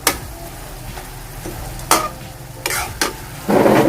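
Chicken sautéing in a pan for pancit, with a dry sizzle under scattered clacks and scrapes of stirring and a louder burst of frying near the end, with no voices.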